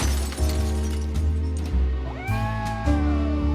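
A cat meows in a Nancy Drew adventure game, one rising meow near the middle over sustained background game music, fairly close and clear with no talking.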